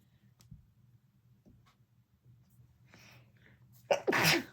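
A single loud, close sneeze bursts out near the end after quiet ticking and light handling noises.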